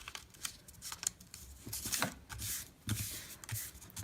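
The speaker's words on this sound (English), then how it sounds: "Fold it in the center." Paper being folded and creased by hand for a mini notebook, with close, quiet crinkles and soft scraping rustles arriving in quick, irregular bursts.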